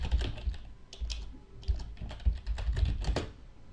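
Soft, quick keyboard clicks come in uneven bursts as a new Bluetooth device name is typed on a Samsung Galaxy S8, close and quiet with no talking.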